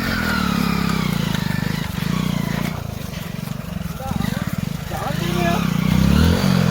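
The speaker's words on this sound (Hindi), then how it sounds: "अब बाइक बाहर जा रहा है हमारा।" Motorcycle engine running while the bike is pushed out of a pond in a jungle area, a loud uneven idle with pulsing putters and revs, close by, with people shouting over it.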